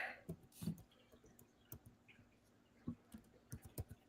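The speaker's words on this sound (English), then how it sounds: "Give me a minute. I'm typing it." Sparse, irregular clicks of laptop keys being tapped, quiet and close, with pauses between short bursts.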